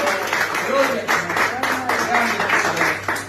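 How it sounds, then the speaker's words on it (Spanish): Church congregation applauding the Lord during a Spanish-language service, dense clapping under a preacher's voice and shouted praise, steady across the moment. "Dale un fuerte aplauso al Señor."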